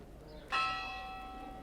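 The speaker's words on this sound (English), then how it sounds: "we just did hear the bells toll, and they were tolling for 11:30" A bronze church bell in Valldemossa, Mallorca strikes once, a clear metallic toll ringing out and slowly fading, heard from a distance in quiet outdoor surroundings.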